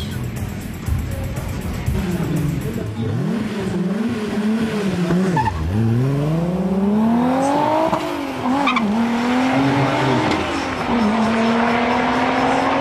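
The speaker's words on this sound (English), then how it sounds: "The Golf thunders along the quarter mile" Twin-engine VW Golf accelerating hard down a quarter-mile drag strip, loud and close, its engine note climbing through repeated gear changes with a brief tire squeal under a steady roar.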